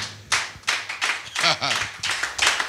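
A church congregation claps in rhythm to acclaim the Lord, with sharp, fairly close hand claps coming in a steady beat while voices call out between them.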